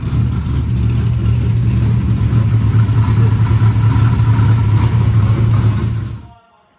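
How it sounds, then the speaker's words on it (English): A Holden VL Commodore's RB30 engine runs loud and close after a cold start, holding a steady, throbbing idle before the sound cuts off abruptly near the end. "Cold start, crank straight up."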